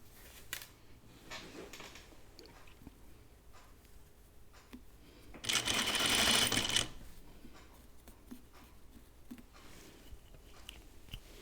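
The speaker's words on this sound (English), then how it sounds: "So I need to stitch just to the left of them" A home sewing machine runs one short continuous burst of stitching along a dress seam, moderately loud against a quiet room with faint handling ticks before and after.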